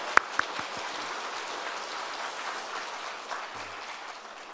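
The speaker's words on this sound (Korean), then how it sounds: "우리 하나님 앞에 영광의 박수 올려드리겠습니다" A congregation at a Korean church's Thanksgiving Sunday morning service claps together in sustained, even applause. It is soft and somewhat distant, with a couple of sharper claps at the start.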